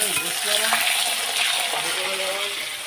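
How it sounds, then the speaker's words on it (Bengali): Potatoes sizzle and crackle in a hot pan, a steady bright hiss with occasional stirring clinks and faint voices in the background. "আলুটা ভাজা ভাজা করে নেবো"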